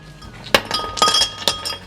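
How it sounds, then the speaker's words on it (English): Ice cubes drop and clink into a glass in several sharp, bright knocks, close up and fairly loud, with short rattling between them. "Add some ice cubes in a glass."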